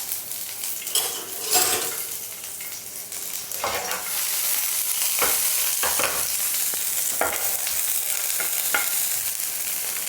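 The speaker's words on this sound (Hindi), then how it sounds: "इसमें डाल देंगे हम 1 चम्मच घी। और ये डाल देंगे हम इसमें आधी शिमला मिर्च को हमने काट कर ले लिया है।" Half a chopped capsicum sizzles in a spoonful of hot ghee in a pan, a steady frying hiss broken by repeated scrapes and clinks of a stirring spoon.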